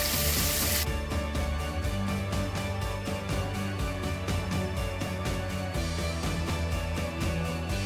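Chopped onions sauté in a pan with a loud, continuous sizzle and crackle that fills the whole stretch, no talk over it.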